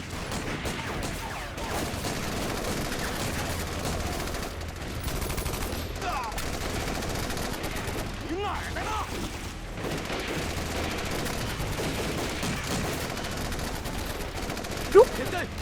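Gunfire from a war action film set during the resistance against Japan, with bursts of machine gun fire mixed with sniper shots, sustained and dense throughout, with shouted voices faintly underneath.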